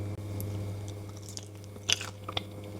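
Homemade oven-baked sweet potato chips are bitten and chewed close up, with a few faint, crisp crunches over a low background hum and no talking.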